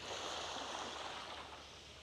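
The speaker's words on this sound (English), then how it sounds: "I'm by the sea" Sea waves wash onto the shore near Ishigaki, a steady broadband surf wash with some wind, close and fairly loud, continuous and slowly easing over about two seconds.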